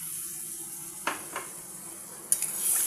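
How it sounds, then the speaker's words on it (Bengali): Tough vegetable stalks sizzle in a pan, and water is poured in, followed by a few soft clinks and stirring scrapes and a rising hiss near the end. "এখন আমি জলটা অ্যাড করে দিলাম"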